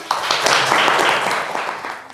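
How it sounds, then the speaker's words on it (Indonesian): Classroom applause for a student group after its presentation at a university lecture, a steady burst of many hands clapping that fills the short stretch and fades slightly toward the end. "Tepuk tangan buat kelompok 5."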